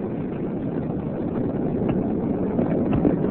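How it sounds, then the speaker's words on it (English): Space Shuttle Columbia lifting off on mission STS-62 as broadcast on television, a steady, muffled low rumble that swells slightly toward the end, heard alone. "And liftoff of the Space Shuttle Columbia"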